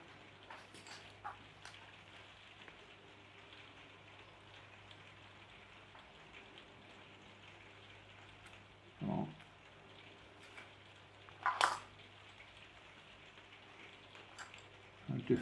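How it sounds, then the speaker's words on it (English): Rain falling outdoors, a faint steady patter heard from indoors, with a few brief louder knocks and clatters rising above it now and then. "You can probably hear it's raining outside."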